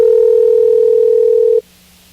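Telephone line tone: a steady, loud single pitch holds for about a second and a half, then cuts off abruptly, leaving a faint low hum.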